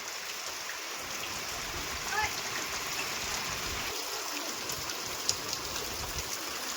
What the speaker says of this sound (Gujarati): આવી રીતનો વરસાદ વરસવાનું ચાલુ